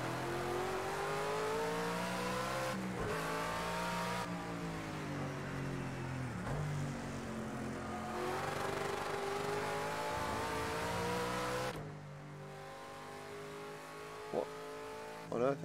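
A race car engine in Project Cars 2 drones and revs continuously, pitch rising and falling through gear changes, loud and close, with a brief drop near the end.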